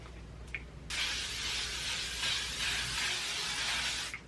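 Face setting spray gives a quick short puff, then a long steady misting hiss lasting about three seconds, close by and fairly soft.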